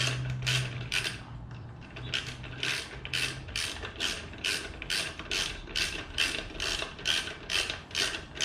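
Metal hardware tightened on a Honda Ruckus scooter's carbon fiber rear fender, with washers stacked as spacers: a steady run of about a dozen crisp ratchet clicks, evenly spaced and close up, with no talking.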